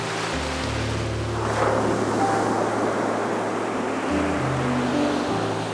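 Ocean surf rolling onto a Pacific beach on the Olympic coast, a steady broad wash of breaking waves that swells and eases, with low rumbling underneath and some wind noise against the microphone.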